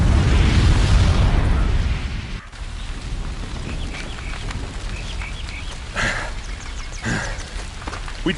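A bomb explosion in the Horizon Zero Dawn video game, a loud roaring blast that rumbles for about two seconds before cutting off, followed by lower rumbling game ambience with a few sharp hits.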